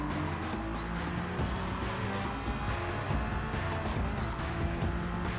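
Race car engine in Gran Turismo Sport at Fuji, a steady loud broadband roar with shifting engine tones as the car accelerates, continuous throughout with no voices.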